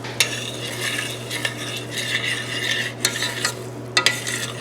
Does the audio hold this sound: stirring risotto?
yes